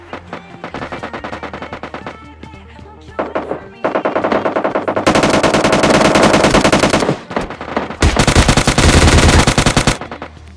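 Rapid automatic gunfire from PUBG Lite, loud and close, with steady bursts building into long dense volleys near the end.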